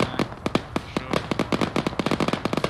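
Rapid gunfire during a Grenada combat operation, many sharp shots in irregular bursts and volleys, some near and some farther off, continuing through the whole stretch.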